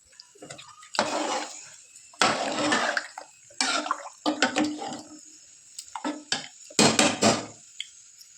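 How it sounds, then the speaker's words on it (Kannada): Two glasses of water are poured into rice in a cooking pot for Sunday special biryani, heard as several close, splashy pouring bursts separated by short pauses, with no voices. "ಈಗ ಒಂದು 2 ಗ್ಲಾಸ್ ನೀರು ಹಾಕ್ಕೊತೀನಿ"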